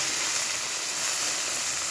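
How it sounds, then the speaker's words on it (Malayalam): Okra sizzling in a hot pan while being stirred, a dense continuous crackle up close with no voices over it. "വെണ്ടയ്ക്ക ഇട്ടിട്ട് ഒന്ന് ഇളക്കി കൊടുക്കുക."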